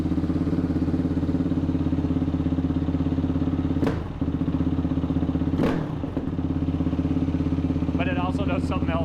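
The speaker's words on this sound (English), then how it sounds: "it idles up and comes right back down" A tuned motorcycle engine running rich idles steadily with a loud, even throb, rising in revs twice before settling back, then a brief rattling clatter near the end.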